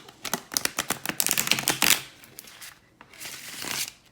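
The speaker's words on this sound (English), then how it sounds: "So I like to riffle shuffle when I can" Quick fluttering riffle shuffle of a tarot card deck, a rapid burst of crisp clicks, then a softer brushing patter as the cards settle, close and fairly quiet.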